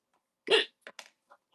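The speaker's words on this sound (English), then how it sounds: "Uh-oh. Hiccups." Four hiccups in quick succession from a person, the first strong and abrupt, the rest shorter and softer, with brief pauses between them and no talk.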